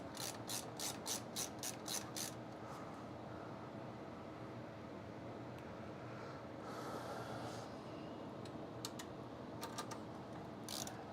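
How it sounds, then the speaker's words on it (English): Screws are driven back into a Corsair power supply inside a Dell computer case with a ratcheting screwdriver, giving quick bursts of close, crisp ratchet clicks at the start and again near the end, with quieter handling noise between. "for the power supply, I'm gonna just go ahead and put the screws back in"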